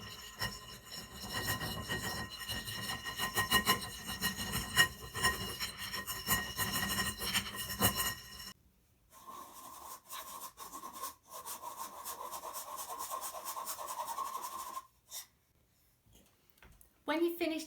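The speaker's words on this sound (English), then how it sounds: "Now sieve all that together." Flour and corn flour are sieved together, making a close, rhythmic scraping and rubbing for about eight seconds. Quieter scratchy handling follows with faint gaps.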